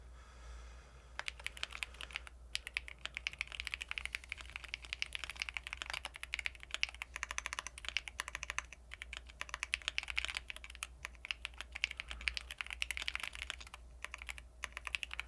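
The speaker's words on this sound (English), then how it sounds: "I think I've gotten a lot worse at typing," Rapid, steady typing on a computer keyboard during a typing race, a dense stream of crisp key clicks heard close and fairly quiet, with no voices.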